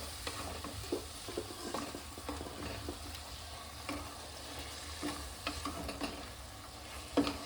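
Marinated chicken sautéing in a pan: a steady close sizzle broken by repeated scraping and clacking strokes of a spatula as the pieces are stirred, with no speech.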